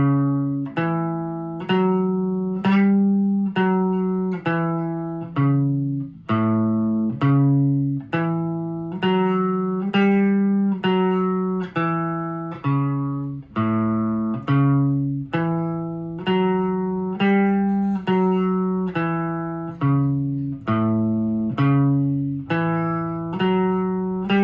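A guitar plays a 12-bar blues riff, a steady repeating pattern of plucked notes moving through the form at an even moderate tempo, played alone and clearly up close for about twenty-four seconds.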